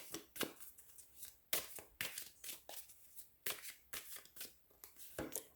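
Small deck of cards shuffled for a card reading: a quick series of soft riffling flicks and taps in an irregular rhythm, close and fairly quiet.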